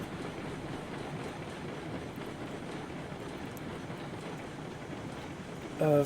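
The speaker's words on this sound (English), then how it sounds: "So if the train comes down the track in the engine facing forward." A train rolls along the track in the Railroads Online video game, a steady low rumble with faint wheel clatter throughout, moderately quiet, with a brief louder squeal or tone near the end.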